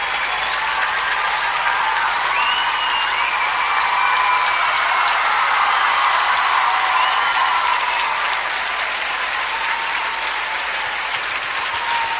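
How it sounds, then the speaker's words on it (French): Sustained, dense applause from a concert audience at a 2006 Olympia show fills the hall steadily and loudly, with a faint vocal tone drifting over the clapping. "vos applaudissements, qui me vont droit au cœur comme d'habitude"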